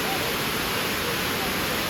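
Rutledge Falls waterfall in Tennessee on a hot day pours as a loud, steady broadband rush, close and continuous throughout.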